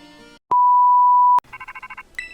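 In the Pokémon Violet video game, an incoming phone call plays as one sustained electronic tone, followed by a quick run of chirpy ringtone beeps and a final blip, loud and clean.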